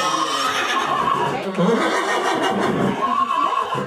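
A mare whinnies loudly over a noisy, rumbling background during a veterinary sonogram pregnancy check, the neigh wavering and trailing off, with a voice briefly mixed in.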